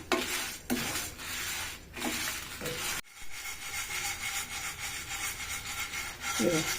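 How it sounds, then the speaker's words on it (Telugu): Moringa leaves, peanuts, sesame and coconut dry-roast in a pan, a steady gritty scraping and rustling as a spatula stirs them, close and moderately quiet, with someone speaking over it. "ఇట్లా వేయించుకోవాలి"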